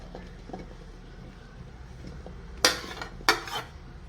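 Washed jamun fruits tipped into a bowl give two sharp clattering bursts near the end after a quiet start, close and fairly loud, with no talking.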